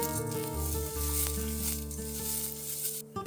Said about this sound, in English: I'm going to take some rice and my onion and a little bit of oil and toast the rice